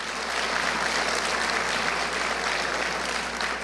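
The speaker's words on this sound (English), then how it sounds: "We can do an applause for that." Sustained applause from an audience at a Let's Move rally in Jackson, Mississippi, a dense, steady wash of clapping that holds at an even level from start to finish, with no speech over it.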